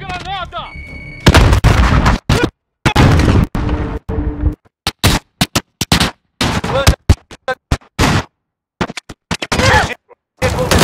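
A Call of Duty Modern Warfare Domination match on PC, with loud bursts of gunfire, sharp shots and blasts in choppy clusters broken by short silences. Game voices come through partly among the shooting.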